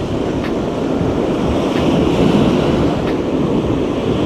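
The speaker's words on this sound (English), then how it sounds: "See that? The slow flow of waves." Ocean surf rolls in steadily with a broad, constant wash, slow waves breaking close by under gusts of wind noise on the microphone, with no talking.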